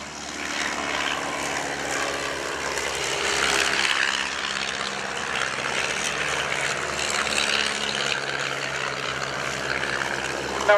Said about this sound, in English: Good to see major engines in harmony, which is a lovely sound.